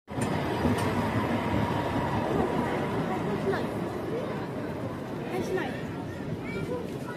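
Tram at the line's terminus near Taksim in Istanbul, with a steady rumbling rail and motor drone filling the scene, faint metallic squeals, and a crowd's chatter and nearby talking over it.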